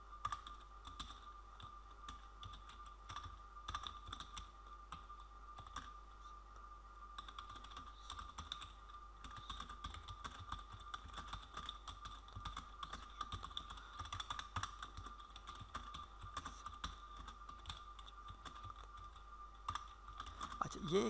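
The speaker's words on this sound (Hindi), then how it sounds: "यहाँ पे अभी मेरे पास ये एक मैं फ़िक्रा टाइप करता हूँ" Keys on a computer keyboard are typed in a quick, uneven stream of soft clicks and taps, faint and close, over a quiet room hum for about twenty seconds.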